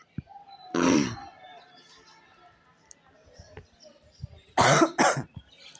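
Two bursts of coughing and throat clearing from someone on a cold morning, one near the start and a louder double burst near the end, with quiet background in between.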